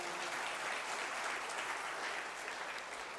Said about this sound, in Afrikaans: klap gerus vir ons hande